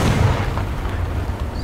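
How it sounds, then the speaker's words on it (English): Artillery shells land around a Panzer IV Ausf. J medium tank in the War Thunder video game, a heavy, rumbling blast rolling on loudly for the whole moment without any voices. "They've dropped artillery on me."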